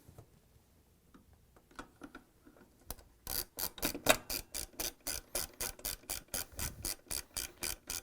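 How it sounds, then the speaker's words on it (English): Half-inch socket wrench ratcheting bolts onto a Whirlpool washer during a spin tube bearing replacement: a few faint clicks and handling taps, then a long run of rapid, regular ratchet clicks, close and fairly quiet, with no talk. "And then we're going to use half-inch socket wrench."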